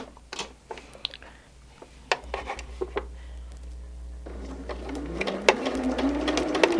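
A home sewing machine stitches quilt fabric blocks for a modern Dresden pattern, set to a slightly longer stitch length, with quiet ticking mechanical bursts that build into a steadier whirring run near the end.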